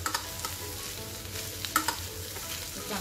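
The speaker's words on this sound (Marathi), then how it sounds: "चांगली परतून घेऊ आपण." Upvas potato bhaji of boiled potatoes sautéing in a pan, with a steady close sizzle and occasional scraping stirs, no voices.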